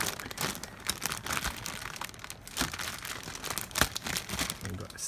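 Plastic packaging crinkles and crackles as a Macross Delta figurine of Mirage is freed from it, with sharp, irregular bursts of crumpling up close, accompanied by speech.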